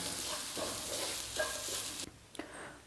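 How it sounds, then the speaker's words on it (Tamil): Ground coconut powder stirred and frying in a pan, with a steady scraping sizzle and a few louder strokes before it drops to near quiet with a couple of soft clinks. "தேங்காய் பவுட்ரு சேர்த்துட்டு நல்லா கிளறி விட்டுருங்க."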